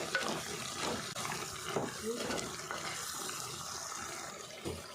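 A spoon scraping and stirring through a thick chicken curry mixture in a pan, with soft sizzling and watery clinks in the background.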